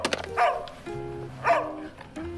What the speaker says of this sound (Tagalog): kanina pa kasi kumakahol yung aso